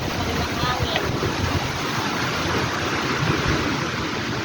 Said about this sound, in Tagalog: Super duper pa ang lakas ng hangin.